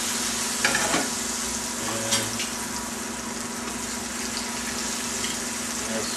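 Cipollini onions seasoned with salt and pepper sauté in a hot pan, giving a steady close sizzle with a few soft stirring knocks early on.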